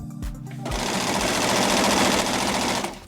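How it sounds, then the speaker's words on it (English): Sewing machine at a home studio starting up after a couple of short clicks, then running in a fast, loud, continuous mechanical chatter for about two seconds before slowing to a stop. "as she worked at her sewing machine"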